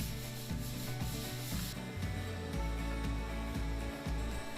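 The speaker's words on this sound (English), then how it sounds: "Once all the sanding in the entire room was done" Sandpaper scrapes a wall in steady back-and-forth strokes, a rhythmic gritty rubbing up close that keeps going without pause.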